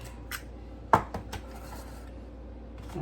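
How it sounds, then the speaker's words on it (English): Eggs are cracked into cups, with a few sharp taps and clinks of shell against the rims, close by in a quiet kitchen. "crack one egg in each cup"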